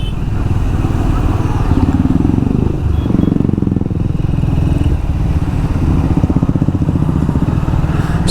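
A Triumph Speed 400 motorcycle engine pulls steadily in third gear through heavy city traffic, a loud, close, rapid thumping drone with rising and falling throttle over wind rush.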